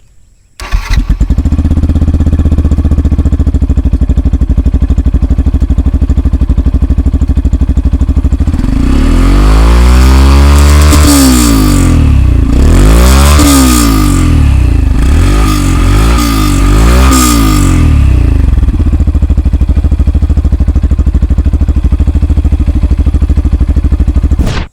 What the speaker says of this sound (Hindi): ऑन करने के बाद एग्जॉस्ट कैसी आवाज़ निकालता है वो आपको सुनाते हैं